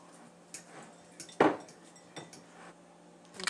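Bananas mashed in a bowl for banana oat and nut muffins, with scattered soft clinks of a utensil against the bowl and one sharper knock partway through, quiet and close.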